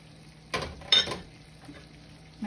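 Chopped onions drop into a hot pan for Guyanese pepper shrimp, giving two short bursts of sizzle about half a second apart, then a quieter steady fry. The sound is close and there is no talk.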